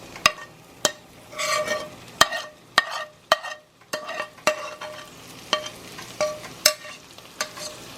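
A fried carrot and celery mixture for corn chowder is dropped into an empty pot, giving a run of sharp, close clanks and scrapes of a utensil against metal with brief sizzling between them and no talking.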